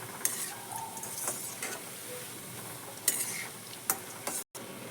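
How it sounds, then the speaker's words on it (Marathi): Crispy snack pieces fry in hot oil in a pan while being stirred, giving a steady soft sizzle broken by close metallic scrapes and clinks of the spoon against the pan, with no talking. "आता आपण हलवून घेणार आहे"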